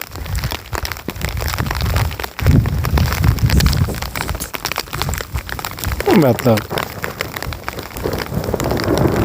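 Monsoon rain patters steadily on a microphone, close and crackly, under continuous talking by a man.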